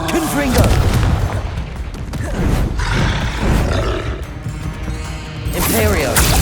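Confringo blasting spell explosions in the Hogwarts Legacy video game, loud booming bursts in close succession amid dense combat noise, with voices mixed in.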